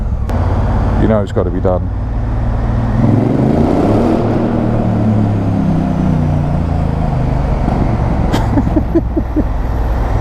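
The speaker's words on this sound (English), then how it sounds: "Shame there's all this traffic, because this bike will sound epic." A motorcycle rolls slowly through heavy London traffic inside a tunnel, its engine droning low with swelling and falling revs amid surrounding vehicle rumble, while someone talks over it.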